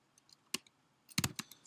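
A few scattered clicks of keys on a computer keyboard as a short terminal command is typed, soft isolated taps followed by a quick cluster of louder strokes near the end, with no talking.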